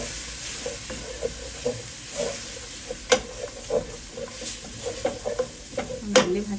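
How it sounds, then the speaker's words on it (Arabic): Spices are toasted with onions in a pot for a chicken curry, giving a soft, continuous sizzle, with a spoon scraping and tapping the pot at irregular beats. "نحمصها كده مع البصل شويه"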